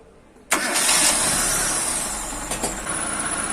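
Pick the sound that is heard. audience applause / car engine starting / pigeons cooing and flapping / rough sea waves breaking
car engine starting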